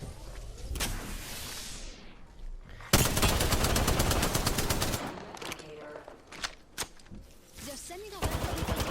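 Gunfire from the Apex Legends game comes in loud bursts of rapid automatic shots mixed with other in-game effects, starting and stopping across the clip.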